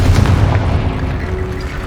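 A Confringo spell explosion blasts apart a barricade in the video game Hogwarts Legacy, a loud, deep booming roar that rumbles heavily for about two seconds without fading.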